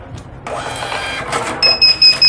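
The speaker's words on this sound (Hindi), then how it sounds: "अब हम प्रिंट कर देते हैं" A receipt printer in a garment store prints a bill: a sustained whirring feed, then a series of short buzzing pulses from the print head, close and loud with no voices.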